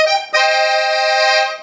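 A Sea Foam Vinny Roberts Classic 120-bass accordion sounds a sustained chord on its musette-tuned reeds, a bright, wavering, harmonically rich tone that swells in after a short opening note and holds steady, close and loud, with no talking.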